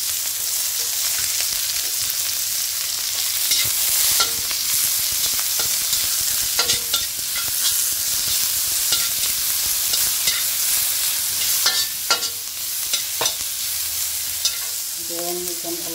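Sliced onion sautéing in a pan after garlic, a steady frying sizzle with repeated stirring scrapes and clinks throughout, close and fairly loud, no talking.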